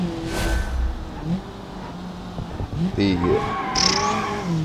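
A modern sport car called the Sunburst drives in a racing video game, its engine note rising and falling as it revs, with brief tire squeals. A voice talks over it throughout.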